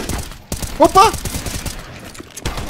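Gunfire in a Counter-Strike match: a few sharp shots stand out amid busy game noise, while a commentator shouts excitedly over the action.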